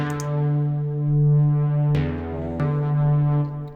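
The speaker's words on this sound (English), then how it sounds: "So that delay here is on ping pong mode, and that's a classic 1/8." A Vital synth patch set up to emulate a Prophet-5 plays sustained harmonic tones through a ping-pong delay in 1/8 timing, with two sharp note attacks that bounce and repeat; clear and alone with no talk.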